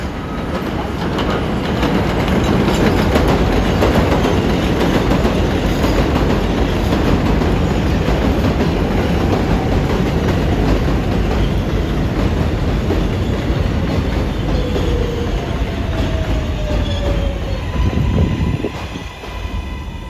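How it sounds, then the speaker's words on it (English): A Manhattan-bound NYC 7 line subway train roars loudly past close by, steady rumbling and rattling of wheels on rails, with a faint metallic squeal toward the end. "Right away, here comes a Manhattan-bound train."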